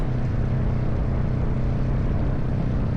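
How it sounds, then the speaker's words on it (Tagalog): A struggling motorcycle engine on a highway near the Alabang South Station exit gives a loud, steady, close rumbling drone with no clear separate backfire pops. "pumupugak-pugak yung nagba-backfire. Hirap na ho talaga ngayon yung makina."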